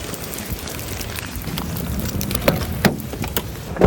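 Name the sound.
rain falling outside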